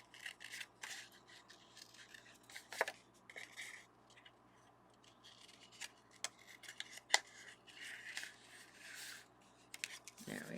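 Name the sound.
scissors trimming paper card edges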